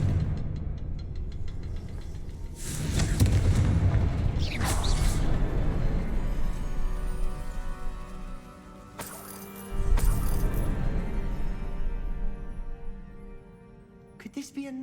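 Several sharp, booming spell blasts from the Confringo fire spell in Hogwarts Legacy burst out at intervals over a rumbling game soundscape, with the biggest hits near the middle and a smaller one at the end.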